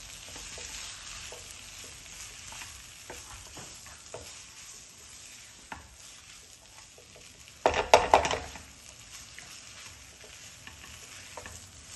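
Gobi keema with peas frying and sizzling in butter in a pan, a steady soft sizzle with a brief louder burst of stirring and scraping midway, no talking.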